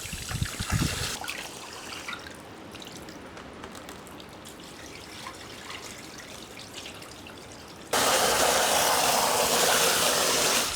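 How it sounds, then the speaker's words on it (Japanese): Brown river sand being rinsed for a 45 cm planted aquarium tank, with steady trickling and dribbling water throughout and a louder, denser rush of water over the last few seconds. "水の濁りがなくなるまで繰り返し砂を洗います。"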